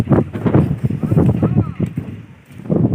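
Strong gusts of wind buffet the microphone in heavy, rumbling bursts, easing briefly before surging again.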